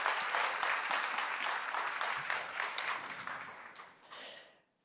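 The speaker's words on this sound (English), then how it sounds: "Let's all give her a round of applause," Applause from a leadership summit audience welcoming a journalist on stage, a broad crowd clapping steadily that thins and tapers off near the end, then fades into quiet.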